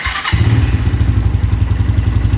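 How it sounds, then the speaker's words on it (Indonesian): A brief starter whir, then a 2004 Suzuki Thunder GSX 250 motorcycle engine catches on the first try and settles straight into a steady, close-up idle. "sekali starter langsung nyala."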